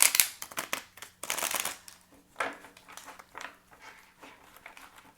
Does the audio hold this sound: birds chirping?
no